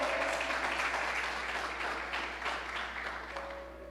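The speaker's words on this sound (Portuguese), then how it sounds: "Pode aplaudir ao Senhor." A church congregation applauds together, a dense, steady wash of clapping that stays loud throughout and eases off slightly toward the end, with no voices rising above it.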